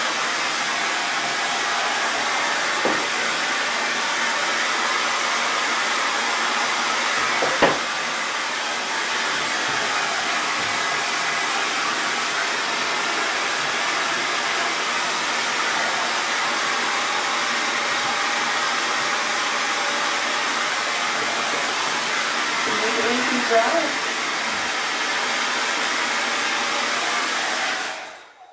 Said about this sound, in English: I'm just going to give it some hair drying magic